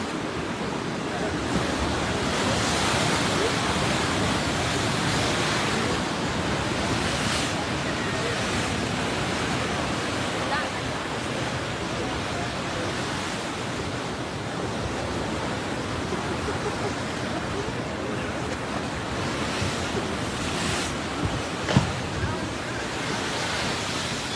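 Ocean waves surge and rush back in a tsunami surge at Pleasure Point, Santa Cruz, after the Tonga volcano eruption, giving a steady, loud broadband wash of surf and wind noise throughout, with a few brief sharper splashes near the end.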